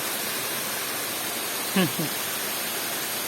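A small waterfall running low on water gives off a steady, even rush of white noise throughout, with a brief voice murmuring faintly over it midway.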